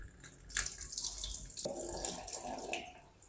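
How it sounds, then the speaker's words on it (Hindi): Water pours into a sink as potatoes are rinsed and drained, a steady close splashing and gushing stream that shifts in tone partway through. "ये पानी हम सारा निकाल देंगे।"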